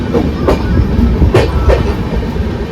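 A train rolls past close by, loud rumbling with rhythmic clickety-clack bursts from the wheels over the rail joints.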